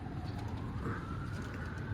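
Soft, low pigeon cooing sounds faintly over a steady background hum, a brief murmuring call.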